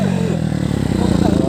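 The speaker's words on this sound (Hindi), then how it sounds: "देखो भाई रुको भाई देखो अभी इस वाला एग्जॉस्ट का पावर" Motorcycle with an aftermarket exhaust revving up close, a throaty pulsing engine note climbing and falling in quick bursts, with someone talking over it.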